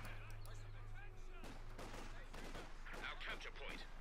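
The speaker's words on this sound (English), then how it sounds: "Quickly being shot at there" Rifle and machine-gun fire crackles in the World War II strategy game Company of Heroes 2: scattered distant shots and bursts sit under continuous commentary.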